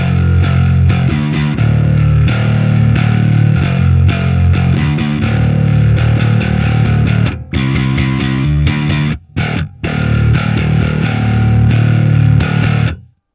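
Bass guitar played through the STL Tones Graviton amp plugin with the Plumes overdrive added gives a heavily distorted, growling tone, riffing on a few repeated notes with brief pauses near the end.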